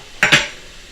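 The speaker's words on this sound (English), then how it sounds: "Going to give it a nice stir." Broth stirred in a pot: two quick, close scraping swishes of a utensil against the pot, then quiet.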